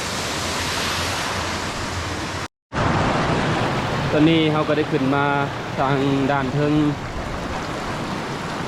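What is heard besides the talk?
waterfall flowing down a cliff in Utah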